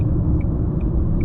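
A 2021 Dacia Sandero Stepway Prestige on the move gives a steady low engine and road rumble from inside the cabin, joined by faint, regular high ticks, with no talking.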